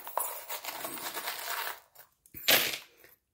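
Small metal charms tumble and clatter onto a surface in a busy jingling spill, a pause, then a second brighter scatter of clinks, close by with no talk.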